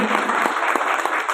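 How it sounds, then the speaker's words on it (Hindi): Loud, sustained audience applause at an event, dense clapping from a large crowd throughout with no talking over it. "इन सभी के लिए जोरदार तालियां।"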